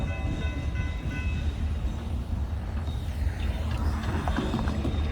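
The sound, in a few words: DeQueen and Eastern railroad GP40-2 train passing crossing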